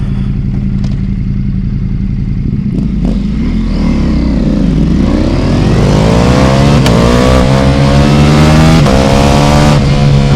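A Ducati Pikes Peak motorcycle accelerating hard on a 0-60 mph run, engine loud and close, revs climbing steadily with a rising whine as it pulls through the gears, heard alone without speech.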